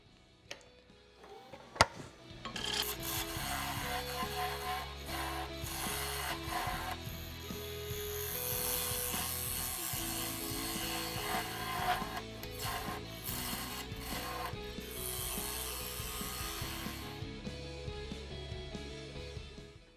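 A bowl gouge cuts across the centre of a wooden bowl spinning on a lathe, a continuous close scraping and rumbling hum with a brief knock at the start, steady for most of the stretch before fading, no talking.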